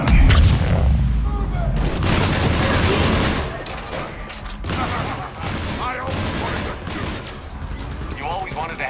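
Firefight gunfire in the video game Mass Effect 3, loud repeated shots and bursts with booms in an irregular rhythm, mixed with voices talking over the combat.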